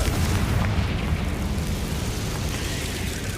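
A Confringo spell in Hogwarts Legacy blasts a barricade, a loud, sustained rumbling boom with heavy low-end roar that holds steady for several seconds before thinning slightly.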